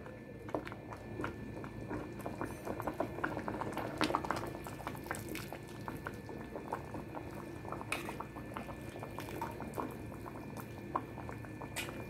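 Cauliflower leaves boil in a pot of water, a steady close bubbling and gurgling that runs unbroken throughout, quiet and with no talking.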